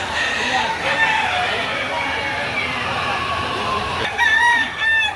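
Boston sweater bloodline gamecock rooster crowing at a poultry market, several drawn-out crows over steady background chatter and crowd noise, with a louder, closer crow near the end.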